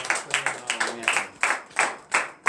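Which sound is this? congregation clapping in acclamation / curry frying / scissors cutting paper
congregation clapping in acclamation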